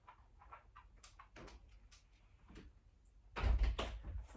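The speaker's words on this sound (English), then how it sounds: "I was just about to shut the door" A door in a house being pushed shut with a husky nearby: faint shuffles and soft knocks, then one louder thump and rattle near the end, in a quiet room.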